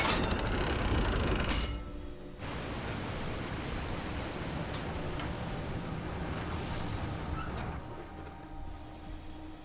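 Steady broadband rushing water in the game Doom: The Dark Ages, loud and continuous, dipping briefly near the start before resuming as an even roar with no voices.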